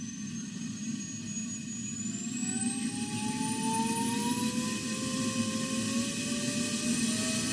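A cordless 20v brushless Hoover Junior vacuum runs on its low setting, a steady motor drone with a whine that slowly rises in pitch, close and continuous with no talk.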